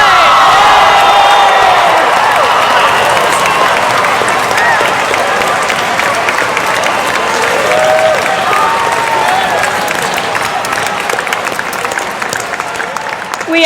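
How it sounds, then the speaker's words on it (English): A graduation audience of the class of 2007 at a high school ceremony cheers and applauds loudly, steady clapping mixed with whoops and shouts from a large crowd throughout. "throw your hats, and let's have a great big cheer"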